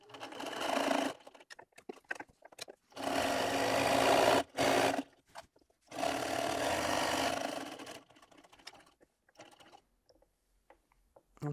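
Sewing machine stitching a quilted clutch bag through wadding, running in three long steady bursts with brief pauses between as it slows around a curve, then stopping near the end with only faint handling sounds.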